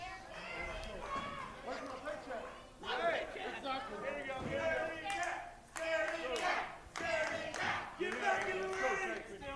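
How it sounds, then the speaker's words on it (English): A wrestling crowd taunts the departing wrestler Calvin Tankman with loud rhythmic chanting, jeers and clapping that swell and fall in bursts, close and dense throughout. "Crowd taunting Calvin Tankman."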